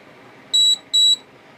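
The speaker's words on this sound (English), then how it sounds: "2 beeps is the 4K mode." A Firefly X Lite action camera gives two short, clear electronic beeps in quick succession to signal its 4K video mode, sounding close against quiet background.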